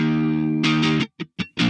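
Distorted electric guitar played through the Air amp sim plugin on an MPC, a sustained chord ringing for about a second, then short choppy staccato stabs, loud and alone.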